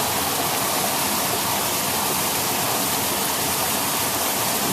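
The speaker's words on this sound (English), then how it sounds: "Water running." Constant rushing water running beneath a hollowed-out snowpack, a broad hollow roar with no breaks, steady in volume like a hidden stream flowing nearby.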